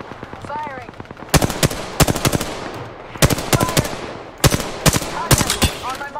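Rapid automatic gunfire from the video game Apex Legends crackles in several sharp bursts, each a quick run of loud shots separated by short pauses, with faint game sounds between volleys.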